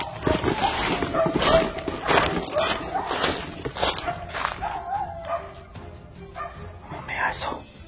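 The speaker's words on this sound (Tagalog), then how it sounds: "Ang daming aso, tol." Several dogs bark and yip together in a repeated, overlapping chorus at a moderate distance, with a person talking over the noise.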